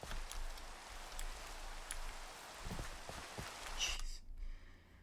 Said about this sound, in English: Humid air. It's raining.